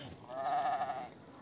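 Goats bleat at a shepherd's hillside camp in the Gali Sharan forest of the Siran Valley, with one wavering, drawn-out bleat carrying from a middle distance over quiet outdoor ambience.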